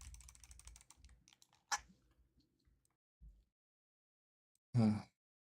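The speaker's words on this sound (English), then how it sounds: "You could hear me banging on my keyboard." Computer keyboard typing during an Apex gaming session, a quick run of close, dense keystrokes at the start, then scattered clicks and a couple of sharp, louder bangs on the keys.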